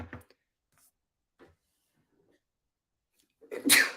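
A single loud, close sneeze bursts out near the end after a few seconds of near silence with faint small noises.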